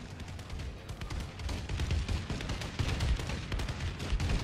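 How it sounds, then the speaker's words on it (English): Bombing run in a Call of Duty video game: dense, continuous rumbling explosions with crackling blasts and low booms, sustained and heavy across four seconds, with no talking. "Enemy bombing run overhead!"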